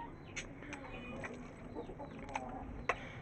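Two hens bought for an aseel rooster cluck softly while being fed leftover home-cooked curry, with faint scattered clucks and small rustles over a low, steady background.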